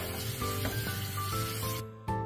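Continuous hissing spray of running water rinsing beans in a colander, steady and soft, cutting off briefly near the end before resuming.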